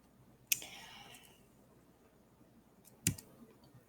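Two separate sharp mouse clicks sound on a computer about two and a half seconds apart as the present button is pressed, with faint room hiss between them.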